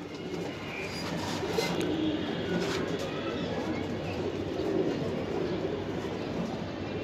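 English Tippler bloodline pigeons, including a high-flyer male, coo softly among a constant background hiss and murmur, the calls low and indistinct.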